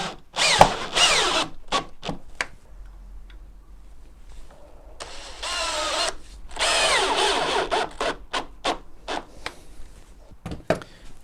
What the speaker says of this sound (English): simply just screw them through the slot in the foot into the ceiling joist